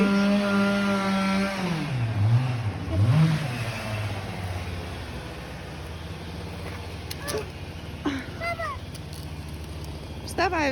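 Firewood being sawn outdoors with a chainsaw, its engine-like whine rising and falling in pitches over steady background noise, with talking audible over it.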